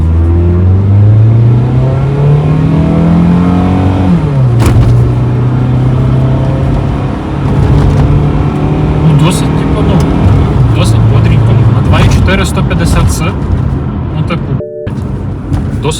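A Mitsubishi Eclipse with an automatic gearbox accelerating at full throttle, its engine note rising loudly from inside the cabin, dropping at a shift, then climbing again while people talk over it.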